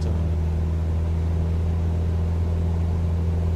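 A Cessna 172 piston engine drones steadily in the video game MSFS2024, a loud, constant cockpit hum with a firm low tone and no pauses or talk.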